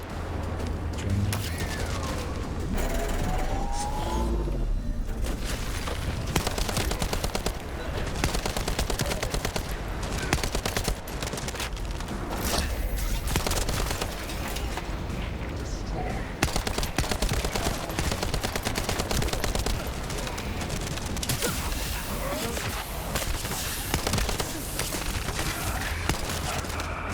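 Gunfire from allies and the player during a mission in The First Descendant, a steady stream of rapid shots and bursts running throughout at a fairly even, dense level with occasional mechanical clatter.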